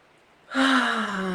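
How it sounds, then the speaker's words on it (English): A single deep breath drawn in during a guided breathing exercise, a sudden loud inhale that starts after a short silence and carries on steadily to the end. "And one last big breath in."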